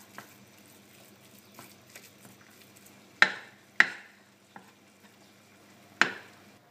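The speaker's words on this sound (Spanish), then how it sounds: "sin nada de aceite echamos la morcilla y la vamos a freír hasta que esté hecha." Blood sausage (morcilla) fries in a dry pan without oil, giving a faint low sizzle broken by three sharp, close utensil clacks against the pan.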